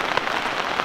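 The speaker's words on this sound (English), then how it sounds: "the rain is starting to come down" Rain pattering steadily on a tarp shelter at a hiking campsite, a dense close hiss of drops with faint individual taps, alone and moderately quiet.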